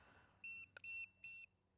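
A Boatman Actor MK4 bait boat remote control beeps three times to show its charge status: short, high electronic tones close by, with a small click between the first and second beeps.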